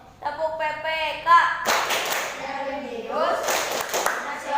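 A sixth-grade class performs a rhythmic group clap routine, sharp bursts of clapping from many children coming right after a short sung or chanted phrase, with chanting voices continuing between the claps.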